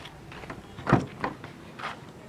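The middle-row door of a car opening: a few mechanical clunks and latch clicks, with one firm thud in the middle, close and fairly quiet.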